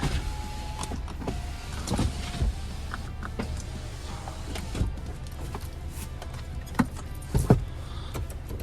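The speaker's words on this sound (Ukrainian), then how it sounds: "Віконечка. Всі йдуть з доводчиками." Power windows on a Skoda Superb run with soft-close action, their electric motors whirring in short strokes inside the car, with a few clicks and knocks mixed in.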